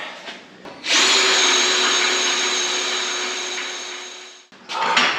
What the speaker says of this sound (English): I got her drilled.